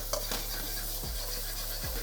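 Fermented chili bean paste stirred in a hot pan, a steady sizzle under the scrape of a utensil, with a couple of low sweeping strokes and a light metallic clink near the start.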